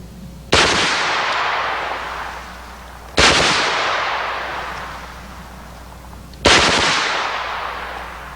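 A 460 Rowland carbine conversion fires three loud, separate shots a few seconds apart outdoors, each a sharp blast followed by a long, rolling echo that fades before the next.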